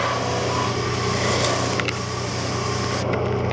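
A skew chisel cuts a wooden chair leg spinning on a lathe, producing a loud continuous whirring hiss with a steady motor hum beneath, ending abruptly as the cut stops.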